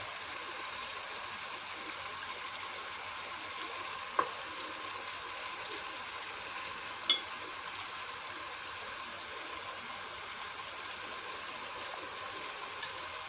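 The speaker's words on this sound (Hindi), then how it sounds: "अब इसमें पाए डाल लेते हैं।" Goat trotters go into a pot of cooked masala, giving a steady sizzling hiss that runs throughout, broken by a few sharp clicks of utensils against the pot.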